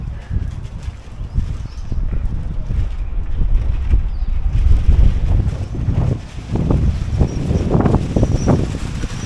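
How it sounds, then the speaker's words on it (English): Strong wind buffets a microphone on the Camino Francés between Santo Domingo de la Calzada and San Juan de Ortega, low rumbling gusts that swell and fade continuously, loud and close, with no voices. "Yeah, the wind has just been crazy."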